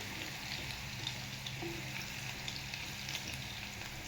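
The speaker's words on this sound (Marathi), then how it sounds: "लसूण चांगला म्हणजे खरपूस भाजायचा आहे जास्त पण नाही एकदम चांगला तळून द्यायचा आहे" Garlic frying in oil in a pan for a Maharashtrian safflower-leaf (kardai) bhaji, giving a steady, soft sizzle and crackle throughout with no talk over it.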